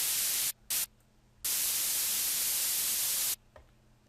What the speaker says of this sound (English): bring it up to a point where it just sounds like white noise